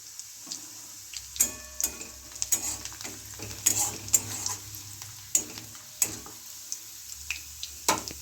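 Whole cardamom pods, cinnamon sticks and onion fry in hot oil, with soft sizzling broken by repeated stirring scrapes and light clinks of a spoon against the pan.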